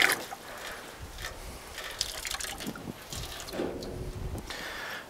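Water splashes steadily from the outside faucet of a Keystone Outback 230RS camper trailer into a bucket outdoors during winterizing. The moderate, continuous pour is broken by a few soft knocks and clunks.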